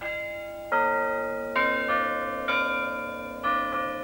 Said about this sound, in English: church bells rang out in Edinburgh too